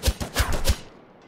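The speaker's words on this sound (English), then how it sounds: "They're shooting at me?" Three quick gunshots from Miscreated, evenly spaced and loud, cracking close by before fading into a short decay with no voices.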